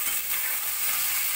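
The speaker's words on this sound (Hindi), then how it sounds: "बीफ फ्राई हो गया" Beef sizzling and frying in a pan for karahi, a steady close hiss of hot oil running without a break.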